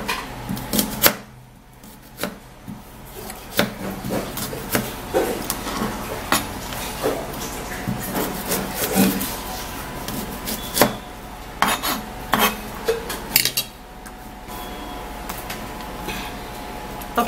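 Knife cutting an onion into pieces in a home kitchen, with irregular sharp knocks and scrapes against a board, interspersed with pauses and handling clatter.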